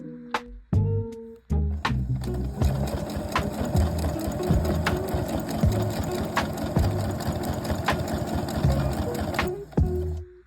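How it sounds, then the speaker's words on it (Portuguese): A sewing machine stitches bias binding onto a thermal waterproof sandwich bag, a few short start-stop bursts followed by a long loud rapid mechanical run with rhythmic knocking, ending in brief stops. "Vamos usar os clipes e costurar o nosso viés, rebater o nosso viés"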